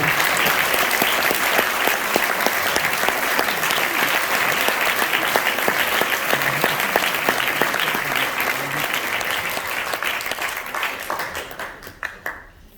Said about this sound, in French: Jacques, applaudissez-le